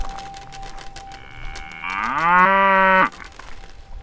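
A cow moo sound effect in a children's storytelling podcast: a single loud, drawn-out bovine moo that swells for about a second and cuts off abruptly, standing alone over faint background noise.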